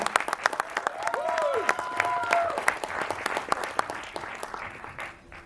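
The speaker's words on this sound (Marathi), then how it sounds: "या जोरदार टाळ्या प्रियमांसाठी झाल्या पाहिजे पुन्हा एकदा" A crowd breaks into strong, sustained applause for actress Priya Berde, rapid claps close and steady throughout with a brief whistle-like sweep early on.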